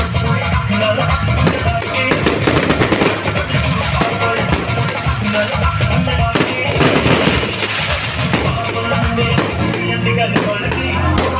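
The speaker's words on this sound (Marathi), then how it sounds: "डीजे डान्स सोबत फटाक्यांची आतिषबाजी चालू होती." Fireworks and firecrackers burst at a Diwali celebration in Ghana, with rapid crackles and pops over loud, thumping DJ music in a continuous din.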